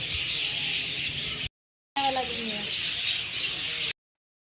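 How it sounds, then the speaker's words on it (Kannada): Dense, loud chorus of birds chirping and calling continuously at Bannerghatta zoo, in two stretches separated by a short silence, with some faint speech underneath. "ಈ ಪಕ್ಷಿಗಳು ನೋಡ್ರಿ ಎಷ್ಟು ಸೌಂಡ್ ಮಾಡ್ತಾ ಇದಾವೆ"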